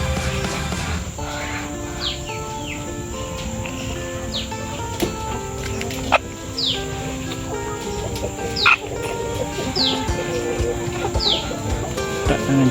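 A chicken in a coop is held and dosed with liquid medicine, giving repeated clucks and squawks over a steady background hum, with a few sharp knocks and rustles along the way.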